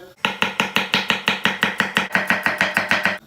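Brisk knife chopping of pepper on a cutting board, a steady run of about fifteen loud, evenly spaced thuds, close and alone.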